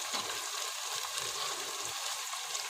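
Onions frying in a pan for kibbeh soup, a steady close sizzle with soft crackles running throughout, no voices.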